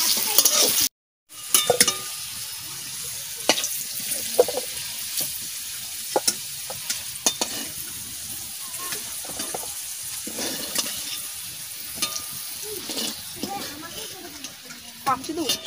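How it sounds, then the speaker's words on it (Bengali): Potatoes fry in mustard oil while being stirred, producing a steady broadband sizzle broken by repeated scraping strokes of a spoon against the pan, with voices murmuring in the background. "এবার আলু নাড়া দাও, আলু নাড়া দাও"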